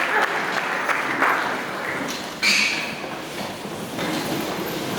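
Church congregation applauding as a group at a Portuguese-language Christian youth service, a steady close wash of many hands clapping for the whole stretch without speech, swelling briefly near the middle.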